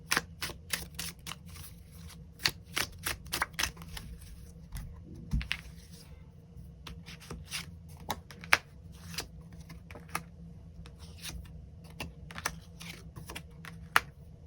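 Tarot cards shuffled and drawn, a long run of quick, sharp flicks and taps in irregular bursts, close and fairly quiet with no talking.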